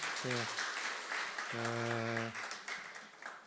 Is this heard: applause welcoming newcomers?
yes